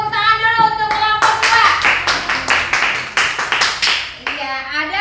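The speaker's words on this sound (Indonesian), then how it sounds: "Kita berikan tepuk tangan dulu untuk kelompok" A classroom applauding a student group, loud close clapping from many hands in uneven bursts, with children's and a teacher's voices before and after.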